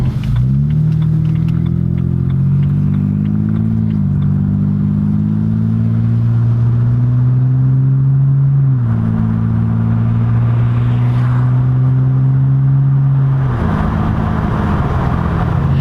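A BMW E30 318is fitted with E30 M3 engine parts hums steadily while driving, its pitch rising and dropping with gear changes, loud and continuous with no talk.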